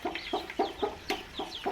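A hen clucks in a steady series of about seven short, near, clear calls on a poultry farm where she is kept with her chicks, the clucks rising and falling in a regular rhythm with no talk over them.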